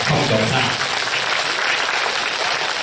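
Secondary school students give a dense, loud round of clapping in a hall during a career guidance event, sustained evenly for a few seconds.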